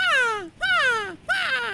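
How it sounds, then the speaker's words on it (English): A seagull-like bird call from the Fortnite video game: three loud, close squawks, each a sliding, descending cry, with short gaps between them and no talking. "Sound like a seagull."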